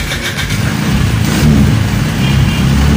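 A one-year-old Rusi RFI175 motorcycle with a faulty spark plug cap runs close by, its engine a loud, low, rough drone that rises slightly midway and holds steady without any talking.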